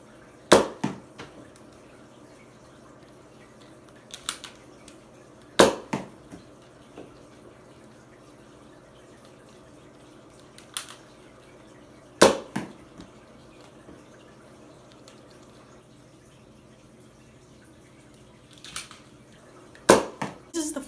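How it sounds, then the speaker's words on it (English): A Nerf Rival Third Rail blaster fires foam rival balls, giving four or five sharp, isolated shots spaced several seconds apart, each with brief rattling after it, in an otherwise quiet room. "This is the firing test for the Big Shack, the third rail, with rival balls."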